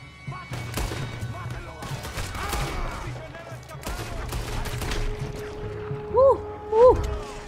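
Scattered gunshots in Red Dead Redemption 2, a few booming reports among ambient game noise, with a person talking and two sharp vocal shouts near the end.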